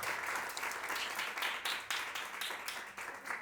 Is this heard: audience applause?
yes